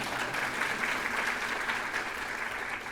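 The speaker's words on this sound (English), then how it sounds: "Y'all all give them a round of applause" An audience at a university college of education scholarship awards ceremony applauds steadily for a few seconds, a dense, even wash of clapping filling the room without any talk over it.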